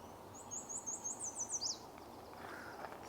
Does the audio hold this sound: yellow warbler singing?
yes